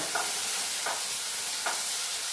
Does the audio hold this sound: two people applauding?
no